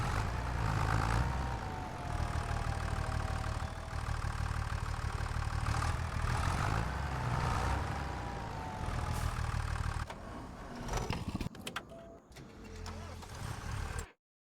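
A tractor engine idles in the video game Farming Simulator 25, a steady mid-pitched rumble that runs continuously and fairly loud, then drops out briefly near the end with a few clicks before cutting off.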